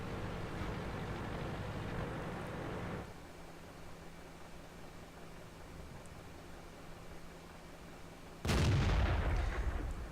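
A tank cannon shot in World of Tanks, a T-44 firing blind: a loud, sudden blast near the end cuts through a steady low rumble of engine and ambience, with a quieter droning stretch before it.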